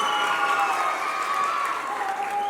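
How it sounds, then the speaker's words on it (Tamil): A small audience applauds at a stage event, with steady, moderately loud clapping over a sustained tonal hum, alone without talk. "என்ன கைத்தட்டல் கம்மியா இருக்கு?"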